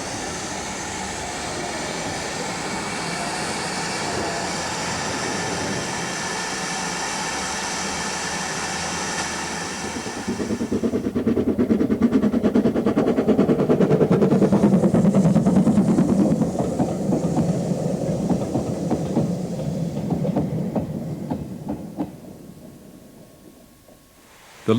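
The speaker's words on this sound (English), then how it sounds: "Here we see a Great Western auto train departing with the service back to Llangollen." A Great Western train pulls away on the riverside heritage line toward Llangollen, a steady rumbling drone that swells louder midway, then gradually fades as it moves off.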